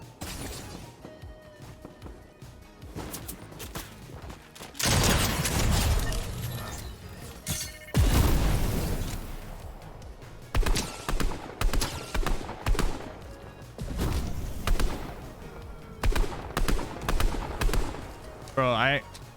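Rapid gunfire bursts in the video game Fortnite, loud crackling volleys and shattering impacts repeating through the stretch with game effects and brief pauses between bursts.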